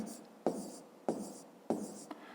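A pen or pencil scratches out a math solution by hand in three short bursts of writing strokes with brief pauses between, close and quiet.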